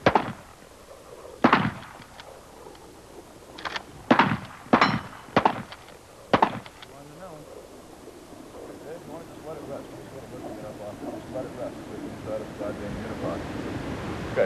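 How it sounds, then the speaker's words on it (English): Police handgun shots on a training range, a single aimed crack followed later by clusters of sharp rapid reports, several loud bursts in the first half, then quieter background with people talking. "It's going to be 1 sniper shot and 2 rapid fire."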